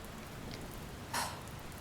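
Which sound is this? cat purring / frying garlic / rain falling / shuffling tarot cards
rain falling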